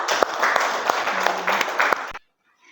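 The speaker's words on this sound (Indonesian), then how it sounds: "tepuk tangan juga" A group in a school coaching session claps hands in a brief burst of applause lasting about two seconds, with a few sharper individual claps standing out before it stops abruptly into silence.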